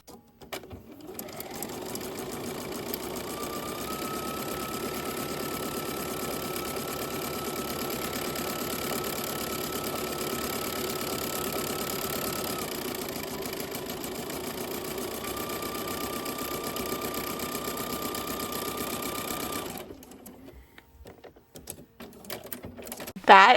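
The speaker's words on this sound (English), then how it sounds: "I'm going to sew all the way around this, and I'm going to sew on the line that I drew." A sewing machine stitches two layers of fabric, right sides together, around a traced line for a Dresden quilt block, its steady mechanical whir running continuously for about twenty seconds before stopping.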